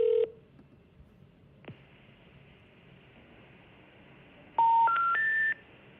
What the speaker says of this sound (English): I can't talk in between these calls because they keep dialing